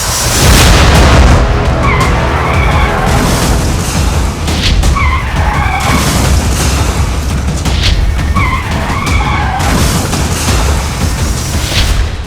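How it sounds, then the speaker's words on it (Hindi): Street CCTV captures a car crashing through a roadside barricade in Bengaluru. A harsh, continuous roar of skidding and impact noise stays loud and dense throughout with no break. "कार आई और बैरिकेड तोड़ते हुए लोगों को रौंदती हुई चली गई।"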